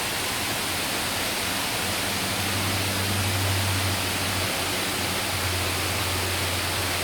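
Sai Yok Noi waterfall gives a constant, even hiss of falling water, with a faint low hum running underneath for a few seconds and no voices.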